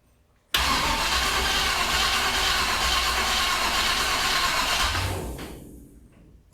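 An old car engine with a carburetor and old-school heads cranks over hard, a loud, sustained churning starter noise that starts abruptly, runs several seconds without catching, then winds down and stops.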